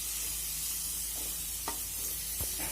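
Beetroot and carrots sautéing in an open pan for a stuffed vegetable paratha filling give a steady broadband sizzle, with a few brief scrapes of stirring near the end and no talk.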